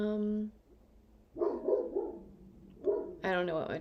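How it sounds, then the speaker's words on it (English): Several dogs bark indoors in short bursts, one sharp bark at the start and then a run of closer, louder barks with yips between them. "I don't know what my dogs are barking at"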